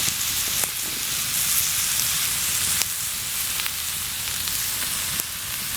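Strips of moose tongue fry with onions and butter in a pan at a winter mountain camp, giving a steady, close, crackling sizzle with a few sharper pops and no voices.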